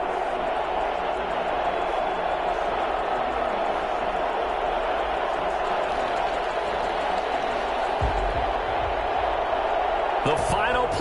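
Dense roar of a stadium crowd in an EA Sports NFL game before kickoff, Atlanta Falcons against Washington Football Team, a steady wash of cheering throughout with a few thumps late.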